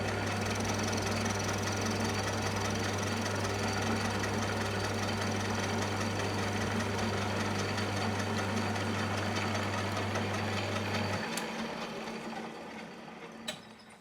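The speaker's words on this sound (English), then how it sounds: "I won't be able to speak while the lathe is running" A lathe cuts a piston for a Mini 1275GT race engine, giving a loud, steady mechanical hum and whir with a constant low tone. The machine spins down and goes quiet near the end.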